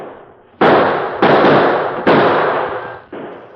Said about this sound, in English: The addition of Kit Carson's musket to the Lone Ranger's well-placed gunfire soon had a telling effect